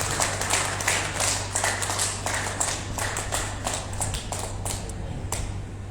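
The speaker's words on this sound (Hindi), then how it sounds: "हाथों को उठाकर जोरदार ताली बजाइए" Audience applause at a yoga festival's closing day, a dense, steady patter of many hands clapping for several seconds over a low hum, with sharper individual claps standing out.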